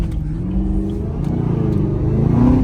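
A Chevrolet Camaro ZL1 1LE with a burble tune revving nearby on a snowy street, a deep throaty engine note that climbs and grows louder toward the end.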